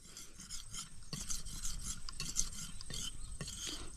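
A knife blade rasps steadily against a sharpening stone before a palm tree is carved, with close, even back-and-forth scraping strokes repeating at a regular rhythm and no voices.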